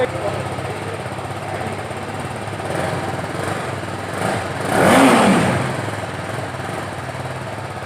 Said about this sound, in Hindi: तो आपने इसका एग्जॉस्ट सुन लिया होगा